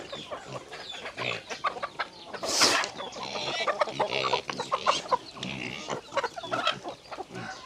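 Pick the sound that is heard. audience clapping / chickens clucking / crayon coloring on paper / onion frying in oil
chickens clucking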